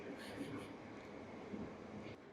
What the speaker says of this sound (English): a train is just going past